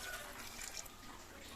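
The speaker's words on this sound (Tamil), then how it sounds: "இப்போ இதில் புளித்தண்ணி ஊற்றிடலாம்" Tamarind water pours into a pot of cooking sambar with a faint, continuous splashing trickle that goes on at low volume.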